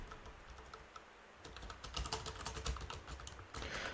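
Rapid keystrokes on a computer keyboard as a custom field name is typed, close and steady clicking that grows denser and louder partway through, with no voices.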